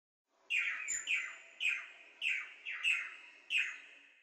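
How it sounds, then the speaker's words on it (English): A blue manakin gives a series of six bright, sharp chirping calls at a steady rhythm, clear and close against a quiet background. "Blue manakin."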